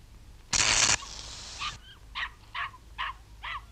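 Dog standing on a wet metal sheet, touched on the nose with a spoon, lets out a sharp yelp after a loud noise, then a series of four short whimpers, close and fairly clear.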